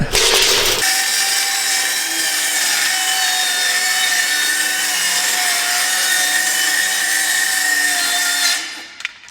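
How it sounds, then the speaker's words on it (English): A power saw cuts through plywood to take one end off a sheet, a loud, steady, high-pitched whine with rough cutting texture held for about eight seconds before winding down, close by with no talking. "So we're gonna have to cut one end of the plywood off here."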